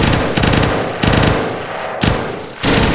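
Modded Minecraft gunfire from several gunners in an arena: rapid overlapping bursts of machine-gun-like shots, loud and dense, repeating in roughly half-second clusters with no talk.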